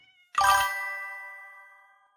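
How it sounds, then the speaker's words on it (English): A single cat meows in a Minecraft Skyblock world near an iron farm: one clear, bright call that rings out with a chime-like tail and fades slowly into silence. "Cats are a byproduct of the iron farm."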